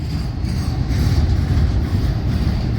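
A Florida East Coast Railway freight train with auto rack cars rolls past close by, a loud continuous low rumble of wheels and cars with faint rhythmic clatter.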